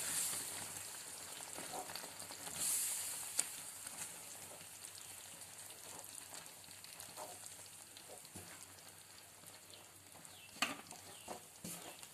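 Flour being stirred into boiling water in a pan for chukkappam, a faint, soft bubbling with light scraping strokes of the stirring throughout, no voices.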